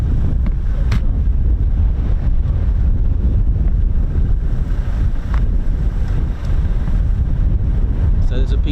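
Strong wind buffets the microphone outdoors beside an air station runway, a loud continuous low roar and rumble with gusty swells and occasional faint ticks.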